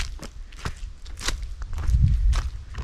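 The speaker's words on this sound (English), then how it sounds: "I love the sound of the leaves." Footsteps crunching through dry fallen autumn leaves on a woodland hike, several close, irregular crackling steps with a heavier rustle near the end, no talking.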